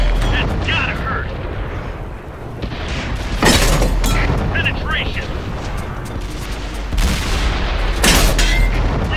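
Tank cannon fire and shell explosions in the World of Tanks video game, loud booming blasts and rumbling impacts recurring through the stretch, with someone talking over the battle noise.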